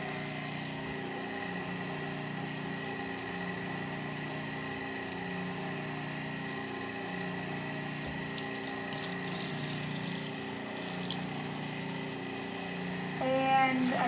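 Chickpeas rinsed under a running tap, a steady close rush of flowing water that lasts throughout, with a brief clatter near the end.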